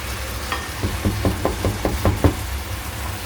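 A spoon stirs ground pork with potatoes and tomatoes in a frying pan, giving a quick run of knocking scrapes over a soft, constant sizzle.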